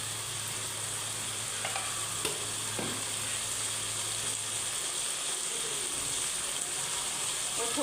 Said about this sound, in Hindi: अब हम इसको 2 से 3 मिनट तक भूनेंगे और इसके अंदर मसाले ऐड करेंगे।